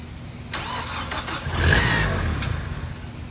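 A Mazda Protege5 with a replacement battery cranks over and catches, its starter whirring briefly before the engine fires, revs up and settles into a rough idle, close by with no talk.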